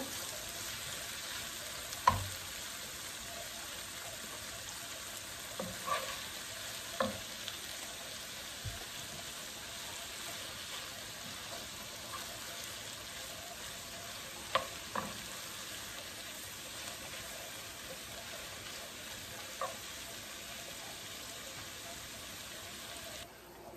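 Vegetable bhaji frying in a pan gives a steady, close sizzle throughout, with occasional scrapes and taps of a spoon stirring it, and no voices.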